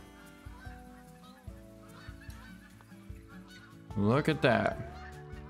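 Flock of incoming geese honks loudly and repeatedly near a goose and quail hunting spot, a burst of overlapping calls after quieter distant honks, with a brief spoken remark.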